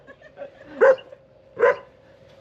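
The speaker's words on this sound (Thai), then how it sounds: "มันเห่าทุกคน เพื่อนเองก็เห่า เพื่อนตัวเองก็ยังเห่า" A dog barks twice at a studio, two sharp separated barks standing out over a low steady hum.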